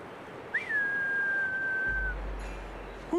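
A single long, steady whistle in a British Columbia forest holds one pitch for about a second and a half, clear and fairly close, over a quiet outdoor background.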